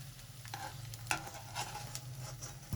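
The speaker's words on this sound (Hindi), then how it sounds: "सारी गोंद इसी तरह हम फ्राई कर लेंगे।" Edible gum (gond) fries in hot ghee with a soft, steady sizzle, broken by a few light clicks and scrapes of a spoon stirring the pan, all fairly quiet and close.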